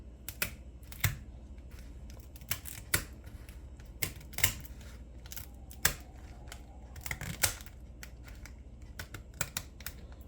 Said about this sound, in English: we're gonna open the lobster tail with our kitchen scissors